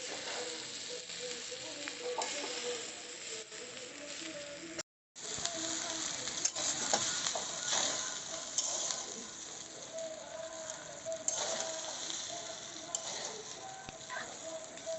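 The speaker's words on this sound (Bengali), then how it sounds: "চাউমিনটাকে সমস্ত সবজি দিয়ে ভালো করে ভেজে নিচ্ছি।" Chowmein with mixed vegetables and soybean frying in a pan while being stirred, a continuous close sizzle with intermittent scraping and tossing, briefly cut to silence near the middle, no speech over it.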